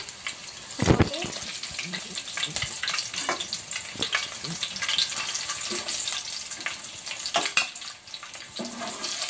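Eggs fry in a pan for an egg and potato curry, giving a steady close sizzle with scattered spoon knocks and a few louder bursts.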